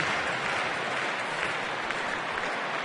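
A crowd at a Braves game against the Nationals in a Washington ballpark roars and claps in a broad, steady wash that holds evenly throughout with no clear peaks.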